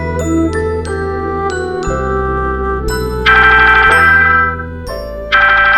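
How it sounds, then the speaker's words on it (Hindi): A phone's incoming-call ringtone plays as a bright, looping electronic chime melody with layered tones, loud and close, repeating its pattern alone without voices. "फोन आया है"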